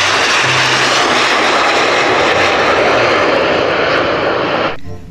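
A passenger airplane with room for about 600 people flies past, a loud steady engine roar that fills the whole stretch and then cuts off sharply at the end, with no voices.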